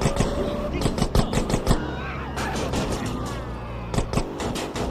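Gunfire in GTA San Andreas during a gang mission, a fast run of sharp shots in repeated bursts mixed with engine and chaotic game noise, with people talking and shouting over it.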